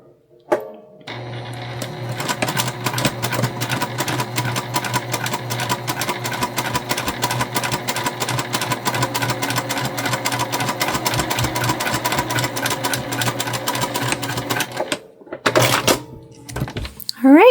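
A sewing machine runs in one long steady burst, a rapid even needle clatter stitching a make-up bag, then stops; a short mechanical clunk and handling noise follow near the end.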